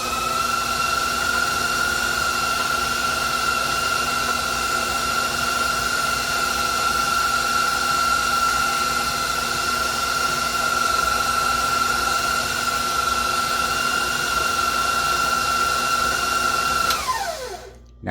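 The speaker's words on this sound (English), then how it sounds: "Now we got it in 5th gear. We're going to let it cream anywhere from 5 to 7 minutes." A stand mixer creams lemon crunch pound cake batter at fifth speed, giving a loud, steady motor whir with a constant whine for most of the stretch, then spinning down abruptly near the end.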